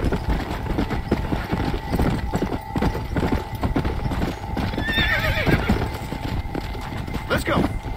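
Horse hooves clip-clopping at a steady gait with a whinny near the end, in the Red Dead Redemption: Undead Nightmare western video game, with game ambience and someone speaking briefly over it.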